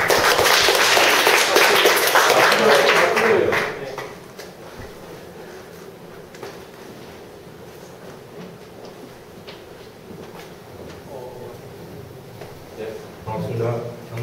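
An audience claps for a first-time attendee at a mentoring talk, a loud, dense burst for about three and a half seconds that stops abruptly, leaving a quieter room with scattered faint taps and murmurs.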